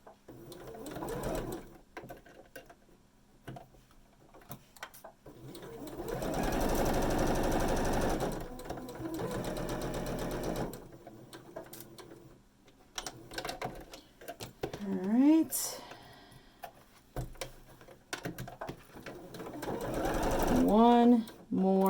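A sewing machine runs a quilt block seam in a few short bursts, quiet and close, with a person speaking between stretches of stitching.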